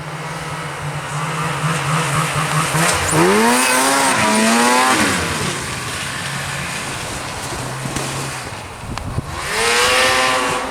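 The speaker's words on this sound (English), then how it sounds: "Zuke wanted to do some wheelies on his Zuke RS" A Suzuki RS snowmobile engine revs hard on a frozen pond during wheelies, loud rising and falling whines with repeated throttle bursts, close by and alone.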